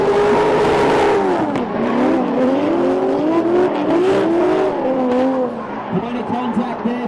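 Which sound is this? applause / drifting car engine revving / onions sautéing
drifting car engine revving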